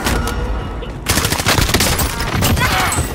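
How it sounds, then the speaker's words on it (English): Heavy gunfire erupts during an ambush: a burst of shots, then after a brief lull a dense, rapid fusillade of loud, close automatic fire, with voices shouting underneath. "Contact! I'm taking fire!"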